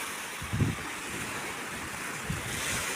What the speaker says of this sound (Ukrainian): от море, настояще, красиве море, це зранку